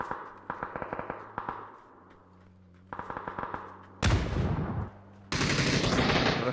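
PUBG gunfire: bursts of rapid automatic shots in quick rhythmic volleys, separated by short pauses, then louder, denser sustained fire toward the end, with no one talking.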